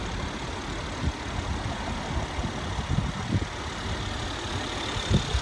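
An SUV, the BMW X6 xDrive35i M Sport, idles with its engine running. A low, steady rumble holds throughout with a few soft bumps, moderately close and without any voices.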